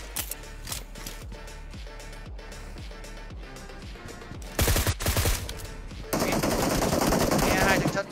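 Bursts of rapid automatic gunfire ring out in a desert-map match of the video game PUBG Mobile. Sharp repeated shots come first, then denser sustained firing near the end, with a player's voice talking in places.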